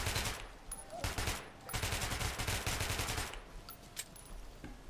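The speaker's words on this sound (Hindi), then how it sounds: "भाई ये कौन सी गन है यार" Video game gunfire in Metro Last Light Redux, several loud bursts of rapid automatic shots separated by short gaps, close and punchy.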